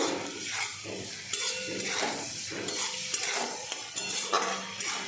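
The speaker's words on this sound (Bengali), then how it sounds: "চিংড়ি মাছগুলো ভাজা হয়ে গেছে" Prawns fry in hot oil with a steady, busy sizzle, joined by repeated scraping and stirring strokes of a utensil against the pan, close and fairly loud with no talking.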